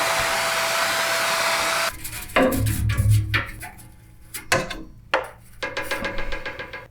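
A household vacuum cleaner roars steadily while cleaning dusty refrigerator coils, then cuts off and gives way to scattered knocks and clatter as the nozzle bumps around the coils, with the motor whirring back up briefly near the end.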